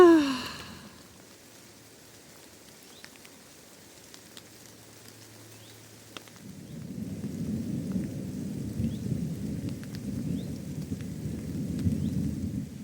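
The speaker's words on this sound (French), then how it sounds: "il y a de plus en plus de temps entre l'éclair et le tonnerre, ce qui veut dire que l'orage s'éloigne" Low distant thunder rumbles from a storm drifting away over a forest hiking trail, a quiet stretch giving way to a sustained, rolling low roar that swells and persists through the second half.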